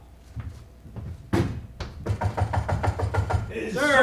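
Knocks rap on a locked sleeping-compartment door aboard a train, a few sparse taps followed by a quick run of firm repeated knocks, close and loud, with a voice speaking at the end.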